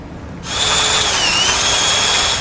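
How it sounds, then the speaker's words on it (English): A power drill bores a 1/2 inch hole with a stepped-up bit while installing a crossbar-style tow base plate, a loud steady whine starting abruptly after a brief silence and holding for about two seconds. "you can step up with your drill bits all the way up to a 1/2 inch"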